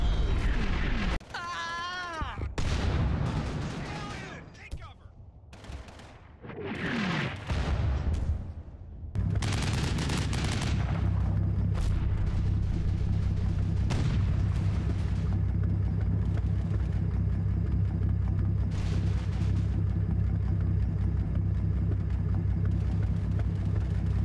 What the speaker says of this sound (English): German mortars quickly zero in on them with deadly effect